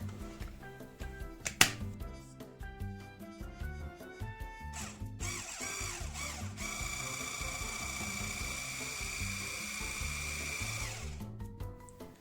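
An electric mixer whisks flour-thickened batter for Russian pancakes, opening with scattered clicks and knocks before settling into a steady, high, whirring motor drone for several seconds, then cutting off, close by and without talk.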